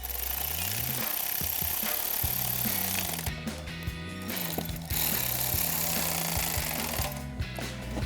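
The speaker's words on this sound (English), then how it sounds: "take that 10mm swivel socket and tighten those bolts down" Coil pack bolts are driven down with a 10mm swivel socket on a HEMI Challenger, giving a loud, close, buzzing mechanical rattle in repeated bursts with brief pauses between.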